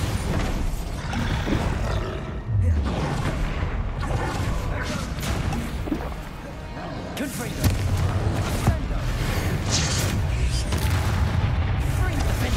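Dense, loud combat din from a Bombarda explosion spell in the Hogwarts Legacy video game, with booming bursts and roaring impacts layered over continuous game audio and an excited voice shouting throughout.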